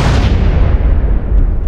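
A loud, dense explosion in GTA San Andreas, heavy low rumble and crackling debris filling the whole moment without letting up, no voices over it.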